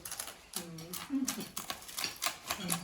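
Loud, close crunching from someone chewing crisp food, a quick series of sharp crackles with faint voices in between.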